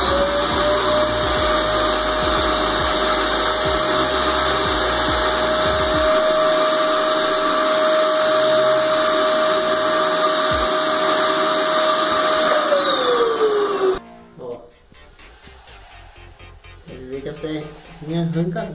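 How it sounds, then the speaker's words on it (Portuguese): A vacuum cleaner sucks up loose old grout dust from tiled joints with a loud, steady droning whine that winds down after about thirteen seconds, then a person talks. "é só pegar e passar um aspirador para poder não acumular."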